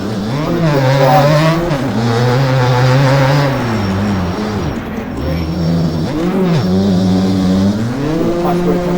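A 2003 Suzuki RM 250 two-stroke dirt bike in the MX Bikes game on the Walnut track screams continuously, its pitch sweeping up and down as the rider revs and shifts, with a person talking over it.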